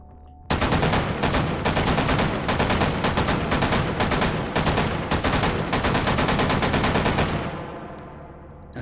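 Automatic shotgun in the VR shooter Hot Dogs, Horseshoes & Hand Grenades fires a sustained, loud, rapid burst of blasts lasting about seven seconds, then trails off into a fading echo.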